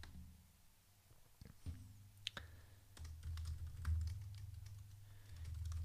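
Typing on a computer keyboard to write a blog post, a quiet, irregular patter of key clicks with a few louder taps over a low background hum, no talking.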